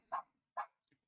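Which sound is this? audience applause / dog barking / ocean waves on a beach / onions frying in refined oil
dog barking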